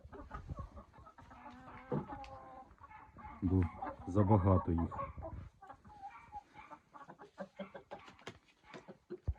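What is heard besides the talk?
chickens clucking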